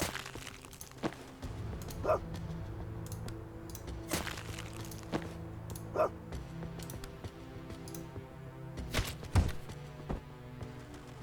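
Cartoonish dog barks from the video game Tactical Breach Wizards, a few short woofs spaced out over a steady game music and ambience bed, moderately loud.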